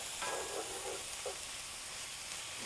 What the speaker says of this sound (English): we're going to stir this all around.